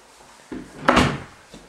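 A walk-in closet door in a house opens with a short, close wooden knock and rattle followed by a louder swing and thud, then a faint tap as it settles.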